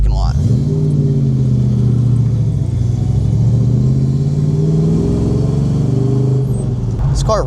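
A 1969 Chevy Camaro SS two-door coupe pulls out of a parking lot, its engine a loud, steady, deep rumble that rises slightly as it accelerates. Voices are faintly audible underneath.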